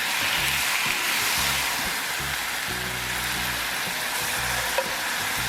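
Apples caramelizing in a hot pan, with a steady, loud sizzle and frying crackle throughout and occasional soft stirring noises; no one talks.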